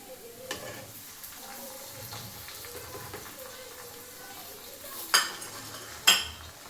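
Fried chicken pieces go into a pan for chicken pickle, with a soft sizzle and quiet stirring followed by two sharp clinks of a utensil near the end.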